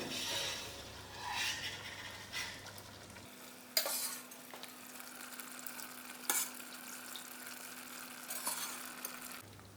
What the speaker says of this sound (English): I'm going to allow the broad beans to cook within the masala so you get a good coloring